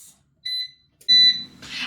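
Air fryer timer beeping while baking cheese crackers: two separate bright electronic beeps, a short one and then a louder, longer one with a low rumble underneath, followed by a brief burst of noise.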